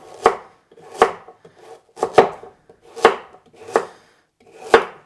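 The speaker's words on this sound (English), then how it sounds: "And then I'll just cut it into some nice slices" A knife chops through vegetable quarters on a cutting board, six sharp, evenly spaced cuts about one per second, close and clear with no talking.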